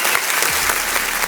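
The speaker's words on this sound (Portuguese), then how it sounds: "Salve de palmas aí." Audience applause in a talk show studio, a dense burst of clapping close by with a faint murmur of voices mixed in.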